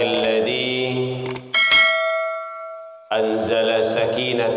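A bright bell chime rings out clearly, its tone sustaining and slowly fading between stretches of other sound.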